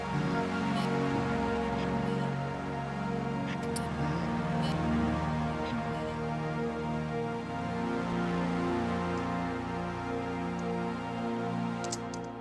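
Two dirty, grindy stacked synths form a dense, sustained wall of sound, loud and unbroken throughout with faint ticking accents and no voices.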